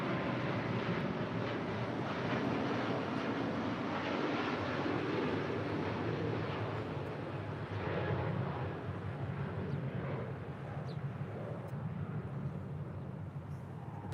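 Airliner departing from LAX, a distant, steady low roar of jet engines rumbling on with some wind buffeting the microphone and no talking.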